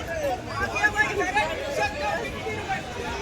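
A crowd's loud babble of overlapping voices surrounds the listener at a packed Mumbai railway station, steady and close for a few seconds.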